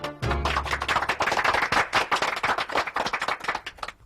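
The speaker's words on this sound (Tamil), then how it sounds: "எங்கே சித்தனை பாராட்டும் வண்ணம் அனைவரும் கரவொலி எழுப்புங்கள்." A crowd applauds by clapping their hands, a close, lively burst of many overlapping claps that starts abruptly and carries on for several seconds.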